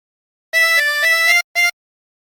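A 24-hole tremolo harmonica plays the fourth phrase of Bella Ciao, a few sustained reedy notes close up, ending with a short final note after a brief gap, with no voices.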